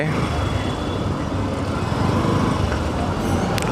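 Steady road traffic on Tongi station road, a dense continuous rumble of buses, cars and trucks passing close by, loud and unbroken throughout with no clear speech.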